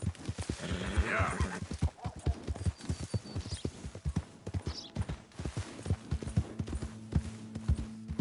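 Horse hooves clip-clop at a steady walking rhythm in Red Dead Redemption 2, close and distinct, with a horse's whinny and faint game ambience around them.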